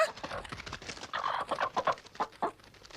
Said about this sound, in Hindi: मेरे अंडे में से चूजा निकला